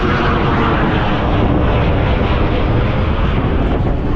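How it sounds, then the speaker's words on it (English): A jet aircraft passes overhead during a bike ride, a loud continuous broadband roar that holds steady throughout with some wind noise on the microphone. "There's another jet."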